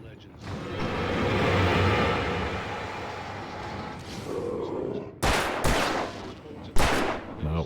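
Gunfire in the video game Alan Wake, a dense, sustained roar of shots with broad noisy bursts, then several sharp, loud separate blasts near the end, with game music and a voice speaking beneath it.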